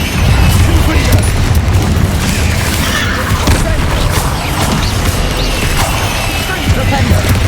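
Confringo explosion spell in Hogwarts Legacy: a loud, continuous rumbling blast with crackling debris, dense and close, lasting throughout.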